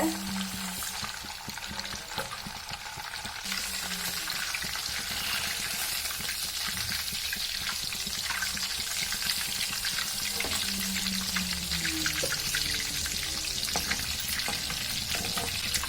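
Milk cream frying in a pan as it cooks down into ghee, a steady close sizzle and bubbling crackle with occasional stirring scrapes, continuous throughout.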